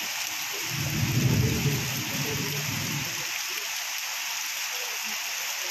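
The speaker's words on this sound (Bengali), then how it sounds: "যেভাবে বৃষ্টি হচ্ছে এরই মাঝে।" Heavy morning rain in Berhampore pours steadily while a low thunder rumble swells near the start and fades out, leaving the rain hissing on alone.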